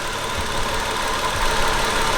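A Nissan 240SX that blows oil sits idling very quietly, giving a steady, even low rumble with a faint mechanical patter and no voices.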